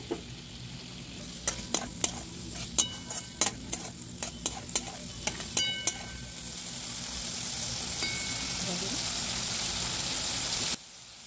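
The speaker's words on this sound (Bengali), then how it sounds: "সস দেওয়ার পর ভালো করে একটু নাড়াচাড়া করে নিয়ে" Masala stirred in a pan after soy sauce and chilli sauce go in, a run of sharp spoon scrapes and clinks against the pan over a steady sizzle that settles into a smoother, louder frying hiss.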